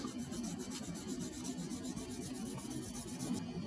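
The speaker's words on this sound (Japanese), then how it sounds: "全体を、4000番の、 スポンジヤスリで削って、" Fine 4000-grit sponge sandpaper rubs over the painted fuel tank of an Aoshima CB400FOUR plastic model, a soft, continuous close-up scrubbing with quick repeated strokes and no voices.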